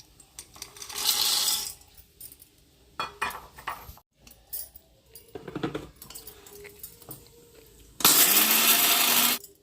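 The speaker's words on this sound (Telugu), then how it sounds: "మిక్సీ అయితే పడతానా" A kitchen mixer grinder whirs loudly in short bursts while grinding chutney, separated by clinks and knocks of the jar and lid, ending in one long, harsh grinding run.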